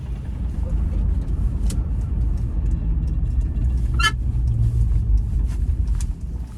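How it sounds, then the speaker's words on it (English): Inside a moving Land Rover Discovery 1, a steady low rumble of transmission rotational noise blends with road and engine drone, a constant heavy hum with a few faint higher ticks. "So that is the rotational noise in the transmission"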